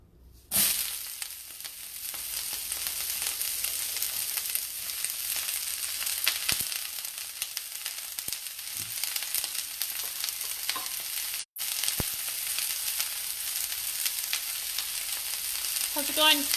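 Cabbage thrown into hot oil in a pan, a sharp burst when it hits and then a steady, bright sizzle of frying that carries on for many seconds with brief stirring clatters.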